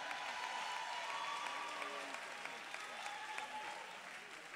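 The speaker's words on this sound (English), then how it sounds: "Should we give them another round of applause?" An audience applauds after a brass band concert with steady, fairly distant applause that fills the whole stretch as a continuous wash of clapping, and a faint murmur runs underneath.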